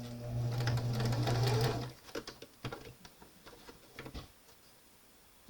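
A sewing machine stitches a garment lining in a steady whirring run for about two seconds, followed by several short clicks and taps as the fabric is adjusted, close and fairly quiet.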